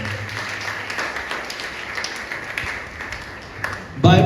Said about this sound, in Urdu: زوردار تالیاں بجاتے ہیں اپنی ماؤں کو